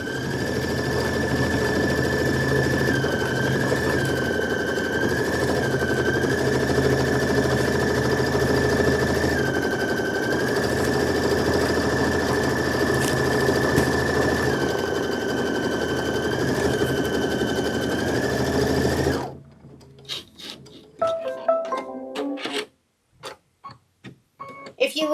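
An embroidery machine stitches a watermelon appliqué for a quilt block, running as a loud, steady, close mechanical whir with slight shifts in pitch, then stopping abruptly near the end, leaving scattered clicks and handling noises.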